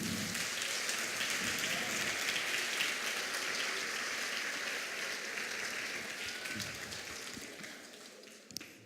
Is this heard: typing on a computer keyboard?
no